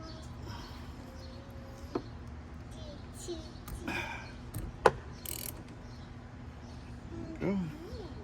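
A 12 or 13 millimetre socket wrench ratchets in short clicking bursts while loosening a battery terminal nut on a 2018 Jeep Wrangler Sahara, close by, with people, including a child, talking around it.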